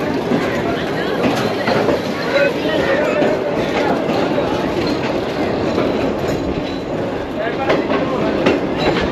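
The upgraded Shalimar Express passenger train runs on rails from Karachi toward Nawabshah through Sindh's banana orchards, heard from on board as a loud, continuous rumble with rhythmic wheel clatter.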